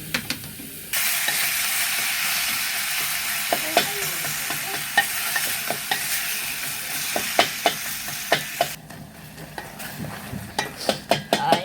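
Garlic frying in a pan sizzles loudly for most of the stretch while a utensil scrapes and clacks against the pan in irregular stirring strokes that continue as the sizzle drops away.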